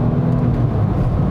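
A Porsche 911 996 GT2 pulls flat out in second gear, its engine a loud, steady low roar with dense mechanical rumble heard from inside the car, no speech.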